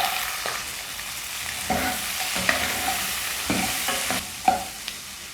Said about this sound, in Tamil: இதில் உரித்து வச்சுருக்கிற வெங்காயம் போடலாம்.